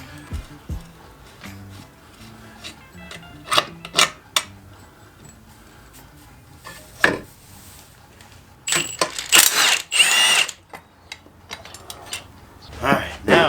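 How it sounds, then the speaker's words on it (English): Intake manifold being removed from a Mazda Miata engine with hand tools: scattered metallic clinks and taps, then a dense burst of rattling, scraping metal near the end, all close and fairly quiet. "We're gonna pop off this intake manifold"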